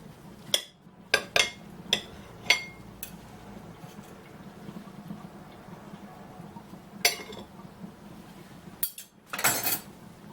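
A knife and fork clink and tap against a plate while a beef and pork meat roll (zraz) is cut, giving several sharp, close metallic ticks spaced irregularly over a quiet background.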